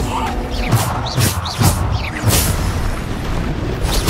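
Bombarda spell explosions in the video game Hogwarts Legacy, a series of loud, deep booms and crashing bursts with magical whooshes, several impacts in quick succession over constant game noise.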